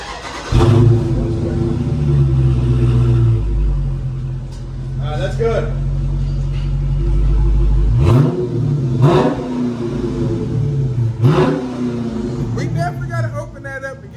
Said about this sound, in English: Hey, do a couple revs.